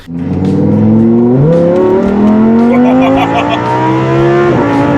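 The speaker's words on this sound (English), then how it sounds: "The acceleration of this car is absolutely insane." A race car engine screams loudly as it accelerates, its pitch climbing steeply and dropping briefly at each gear change before rising again.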